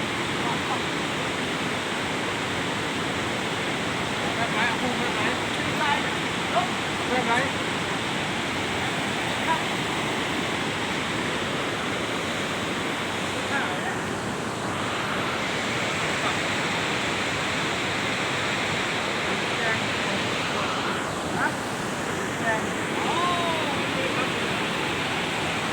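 A waterfall in the Hin Nam No protected area of Laos roars in a steady, dense rush of falling water that continues without a break, close and fairly loud throughout.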